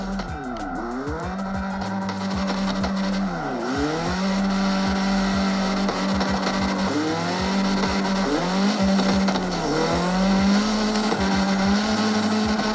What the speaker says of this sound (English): Drifting here and doing donuts